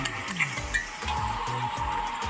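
Onions and chillies sizzle quietly in hot oil, with a few soft clinks of a utensil stirring the pan.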